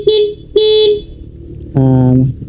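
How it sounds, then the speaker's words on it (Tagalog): Stock horn on a Honda Click 125 scooter honks three times up close: two short, even beeps followed by a slightly longer, lower blast, each loud against a quiet background. "So pag binusina ko sa stock horn, gamit lang natin."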